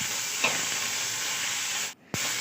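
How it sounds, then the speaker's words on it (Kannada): Tomatoes sizzle in a hot pan for chicken gravy, a steady frying hiss with a brief stir scrape and one short break where the sound cuts out before resuming. "ಚೆನ್ನಾಗಿ ಫ್ರೈ ಮಾಡಿ"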